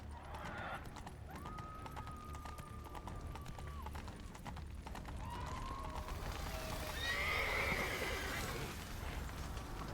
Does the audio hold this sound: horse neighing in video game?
yes